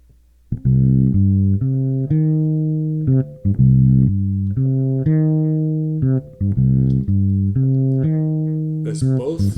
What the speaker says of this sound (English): this is the sound of my bass